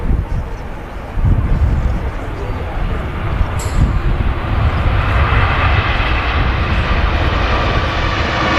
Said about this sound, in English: First A350 lining up. Here we go from Cathay Pacific.